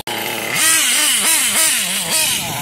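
A Kyosho nitro RC car engine fitted with an OS medium glow plug revs hard and close, its high buzzing whine climbing and dipping in quick repeated throttle blips over a couple of seconds, loud and alone.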